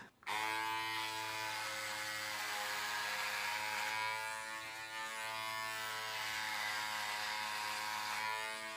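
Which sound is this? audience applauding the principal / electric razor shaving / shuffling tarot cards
electric razor shaving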